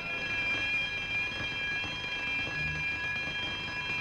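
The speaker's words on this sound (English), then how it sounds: "That alarm meant that someone had been captured." Palace alarm in a 1940 Flash Gordon serial, a sustained electronic tone with steady high pitched whistling harmonics over a low rumbling bed, moderately quiet and continuous, with no voices.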